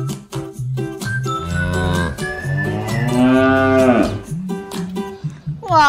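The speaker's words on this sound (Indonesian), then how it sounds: "Di depan rumah ada induk sapi." A cow standing in front of a house lets out several long, loud moos close by, with a faint jingling bell and brief noises between the calls.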